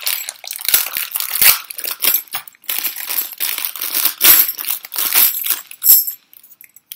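A small toy tambourine of wooden construction is shaken close by in a quick series of rhythmic bursts, its jingles giving a crisp, rattling shimmer that repeats about a dozen times before stopping.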